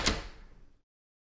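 A door handle on a bathroom door is handled for foley, giving a single sharp metallic clack that decays quickly into silence, close and isolated.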